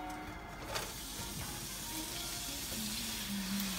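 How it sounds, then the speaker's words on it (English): Louisiana pork sausages, regular and hot, sizzle steadily in oil in a pot, a continuous close frying hiss with a few light stirring knocks and no talk. "I'm gonna stir them up till they saute brown."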